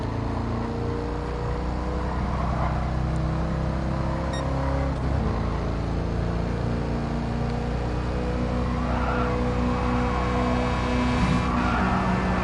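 Race car engine droning steadily in Gran Turismo Sport on PS4 VR, with tires skidding and squealing through corners, loud and continuous throughout.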